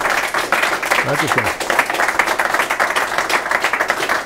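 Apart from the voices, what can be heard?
studio audience applause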